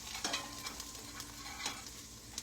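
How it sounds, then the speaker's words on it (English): A metal spatula scrapes and taps in a sizzling pan, breaking up browned seasoning for BBQ short ribs, with several sharp scraping strokes standing out over a steady frying hiss. "I've got my metal spatula here, and I'm just gonna kind of break up"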